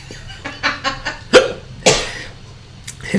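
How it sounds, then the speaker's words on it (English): A person hiccups repeatedly, several short sharp spasms in an uneven rhythm, close and fairly loud with brief quiet gaps and faint breathing between them. "I can't control the hiccups."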